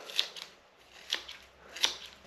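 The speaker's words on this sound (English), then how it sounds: "now I'm just going to cut my nettles up" Scissors snip through a bunch of nettle stems in a few quick, crisp cuts with short pauses between them, close to the microphone in a quiet room with no voices.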